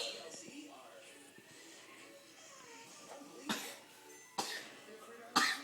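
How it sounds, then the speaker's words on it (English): A child coughs in a few short, sharp bursts near the end, separated by pauses, with quiet room noise and soft voices in between. "it's a bad cough you got there."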